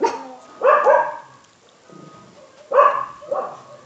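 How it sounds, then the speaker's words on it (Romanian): A small Yorkshire terrier yaps indoors, giving a quick pair of loud, close barks, a short pause with faint low sounds, then another pair of sharp barks, with no voices. "Latră și ea."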